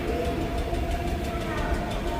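A vintage holiday nostalgia subway train departs 2nd Avenue in New York City, its steady rumbling car noise filling the space as a voice talks over the ride.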